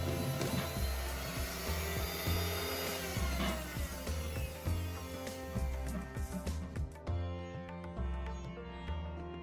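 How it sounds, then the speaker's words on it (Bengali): An electric mixer beats carrot cake batter in a home kitchen with a loud, continuous motor whine and rattling that shifts in pitch and thins out toward the end. "এখন আমরা এটাকে ভালো করে মিক্সচার মেশিন দিয়ে মিক্স করে নিচ্ছি।"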